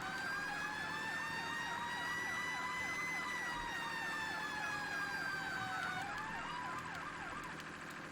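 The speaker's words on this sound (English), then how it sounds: "You guys can see some pretty cool different types of sirens" Fire truck sirens in Farming Simulator 17, several wailing tones sweeping up and down at once, loud and steady, with a pitch drop near the end as the engine passes.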